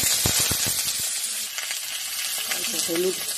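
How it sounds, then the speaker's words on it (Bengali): A short burst of frying with pan clatters at the start, then a soft steady sizzle as pointed gourd cooks in mustard oil, with faint voice-like tones near the end. "পটলগুলো এখন ভেজে নিব। সাদা তেল দিয়েও ভাজা যায়, আমি সরষা তেল দিয়েই ভাজবো।"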